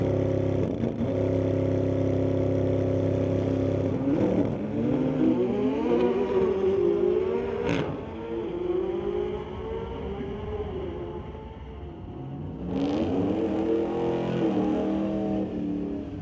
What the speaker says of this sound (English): Dan Selena in the 2023 Corvette going against Dave Allen in his 2023 Corvette.